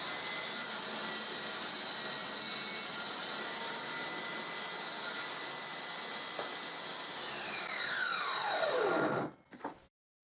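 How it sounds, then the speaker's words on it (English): Homemade table saw running with a steady loud whine as a board is cross-cut on a small sled, then the blade spins down in a falling pitch and stops near the end. "With this small sled I can easily cross-cut with my homemade table saw."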